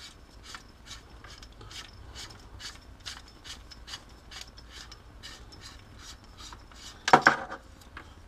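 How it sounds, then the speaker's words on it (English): Buffer tube of a VFC airsoft rifle being unscrewed, a close, quiet series of regular scraping, ratcheting twists, closing in a brief louder clatter of metal parts. "you can unscrew the buffer tube"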